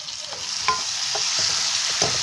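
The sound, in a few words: stirring sugar into chicken devil in pan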